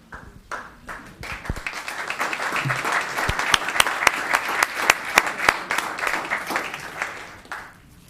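An audience applauds at a Los Gatos town council meeting: scattered claps build into steady applause with sharp individual hand claps standing out near the front, then taper away.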